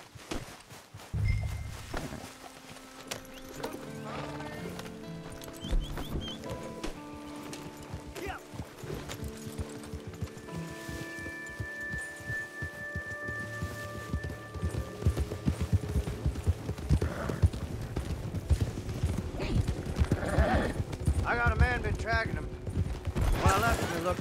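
Several horses clip-clop at a walk and then a quicker pace in the video game Red Dead Online, a steady rhythmic hoof patter with an occasional whinny, close by and heard beneath someone speaking and background music.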